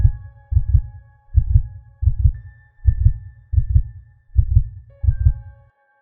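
A heartbeat sound effect plays alone as a steady run of deep, loud double thumps, about eight pairs in six seconds, over a faint high hum.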